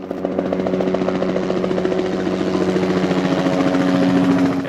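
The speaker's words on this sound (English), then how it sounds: "it's time to bring the helicopter in and start hooking the bags out to the barge" A helicopter flies in to lift bags of collected garbage and recycling out to a barge during a cleanup in the Great Bear Rainforest. Its steady rhythmic rotor thumping and engine drone stay close and loud throughout, with no talk.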